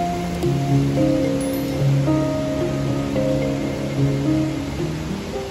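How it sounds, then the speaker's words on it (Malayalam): The Marmala waterfall gives off a steady, loud rushing roar throughout, with humming, tonal voices or sounds layered over the water. "അങ്ങനെ വളരെ നാൾക്ക് ശേഷം ഒരു വെള്ളച്ചാട്ടം കാണാൻ പറ്റി."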